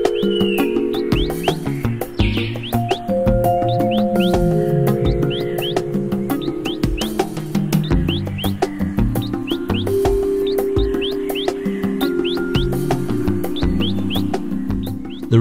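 A dense chorus of birds calling and chirping in secondary rainforest in Tabin Wildlife Reserve, Sabah, many overlapping whistles and tweets, steady and moderately loud with no talk.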